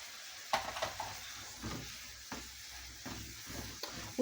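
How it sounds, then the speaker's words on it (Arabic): A spiced mixture with ginger frying in a pan for a mango and chicken seffa gives a soft, low sizzle broken by several short scraping stirs at irregular intervals, with no talking. "غادي نخليها تحمر شويه تقلى"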